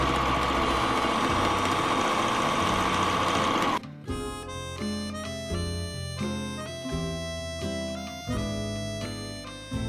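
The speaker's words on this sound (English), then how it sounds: "I'm going to top stitch about quarter of an inch around the entire piece here." A sewing machine runs steadily, top stitching a quarter inch around the edge of an origami tote bag. After a continuous stretch it settles into short, rhythmic bursts of close mechanical whirring with brief pauses between them, with no voices.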